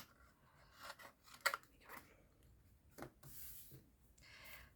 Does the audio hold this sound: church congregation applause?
no